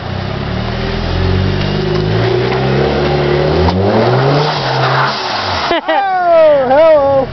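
A car engine revs hard and accelerates, its pitch climbing through the gears, ending in a loud wavering whine close by.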